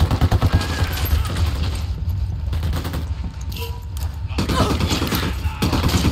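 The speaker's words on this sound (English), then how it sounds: "I'm shooting these fuckers." Gunfire crackles steadily through a firefight in Ghost Recon Wildlands, bursts of shots layered over dense, loud game noise with hardly a break.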